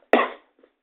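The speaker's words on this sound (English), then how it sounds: "As he coughs." A single sharp cough, loud and close, decaying quickly, followed by a faint short breath and then silence.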